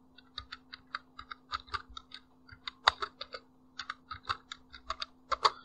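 Rapid bursts of typing on a computer keyboard, close and crisp, with clustered key clicks and short pauses over a faint steady hum.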